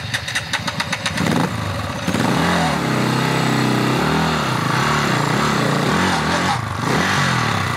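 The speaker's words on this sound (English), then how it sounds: "That clutch is slipping or something." A dirt bike engine with a slipping clutch revs loud and close, opening with a rapid sputtering idle and then rising and falling in wavering, strained whines.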